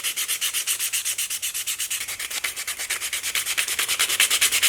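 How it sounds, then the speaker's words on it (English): Sandpaper rubbed around the edges of a wooden fingerboard deck, a close, steady rhythmic scratching of quick repeated strokes with no talking. "we're just gonna take a bit of sandpaper and just go around the edges like on an angle"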